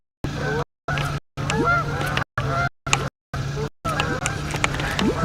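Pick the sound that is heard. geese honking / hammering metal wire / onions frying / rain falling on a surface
geese honking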